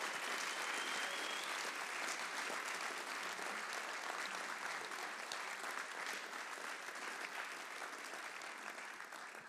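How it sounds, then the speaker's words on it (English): An audience claps for a trio at a university concert, a dense, even round of applause sustained throughout at moderate distance, tapering slightly at the end. "nice round of applause."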